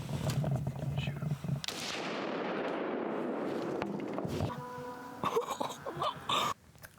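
A rifle shot fired during an elk hunt on the prairie: a sharp, loud crack with a long, decaying boom rolling out over open ground, preceded and followed by brief voices and handling noise.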